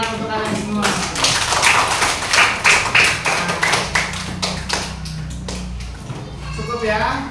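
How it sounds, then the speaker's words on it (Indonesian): A school class claps together in a classroom, a burst of loud, close hand claps that settles into a quicker rhythmic clapping pattern, with a voice speaking around it. "Tepuk tangan untuk kalian semua."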